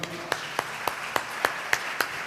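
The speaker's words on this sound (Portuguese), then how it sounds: "Você pode aplaudir ao Senhor?" A church congregation claps together in a slow, even rhythm, about eight strong beats spaced roughly a quarter second apart, over a soft room murmur.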